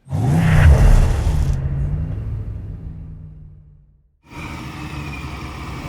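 A Chevy K5 Blazer with an LT1 engine pulls away with a loud, close rumbling rev that fades over a few seconds, drops to near silence, then a steady engine drone resumes.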